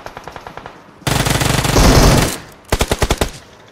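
Rapid automatic gunfire from a battle royale video game starts with a quieter distant burst, then a loud sustained volley, then a sharp close burst of about six shots.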